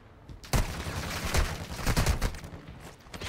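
Gunfire in the Warzone video game, a few loud bursts of rapid shots with sharp cracks over a constant background roar.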